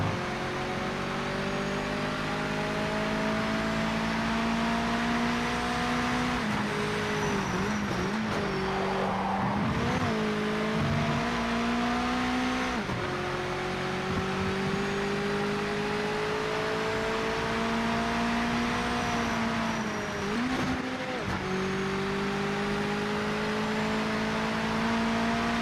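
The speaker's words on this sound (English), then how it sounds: "The cars are loud though." Race car engines in the video game Project Motor Racing, a loud, continuous drone with engine pitch rising and falling through gear changes and revving over the whole stretch.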